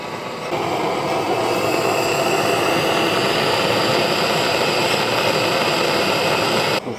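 A heater warming an engine crankcase during an engine rebuild gives a steady, loud, unbroken blowing roar that holds constant for several seconds before cutting off at the end, with no voices.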